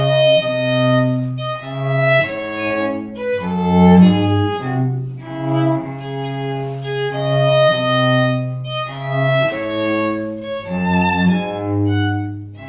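Period violin playing only the treble line of a Bach chaconne with a bass part, sustained bowed notes moving in a slow, resonant phrase, close and clear with no talking.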